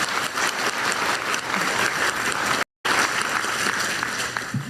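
Audience applause at a government investment announcement ceremony, steady dense clapping from a large crowd with a brief cut partway through.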